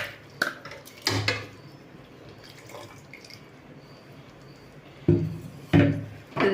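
A metal spoon knocks and scrapes in a pot as a spice mixture with water is stirred for a village-style chicken dish, a few sharp clinks at the start and end around quiet scraping.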